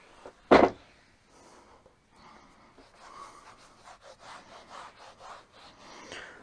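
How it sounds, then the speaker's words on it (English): Towel rubbing across a car's interior surface during restoration cleaning, a soft continuous scrubbing swish in repeated strokes close to the mic, following one sharp knock at the start. "now we're going to take our towel again and start wiping it down"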